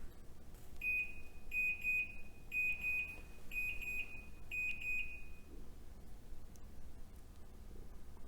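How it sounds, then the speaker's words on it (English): A Smeg Portofino range minute minder timer buzzer sounds five evenly spaced high-pitched electronic beeps, clear and moderately loud, then stops, leaving a quiet room. "You will hear a buzzer sound when the set time is reached."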